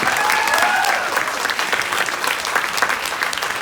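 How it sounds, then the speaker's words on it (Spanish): A crowd in Chicago applauds Carlos Tortolero, president of the National Museum of Mexican Art, at an award event for Angélica Aragón. The clapping is loud, full and sustained throughout, with faint crowd noise underneath. "Un aplauso para él, por favor."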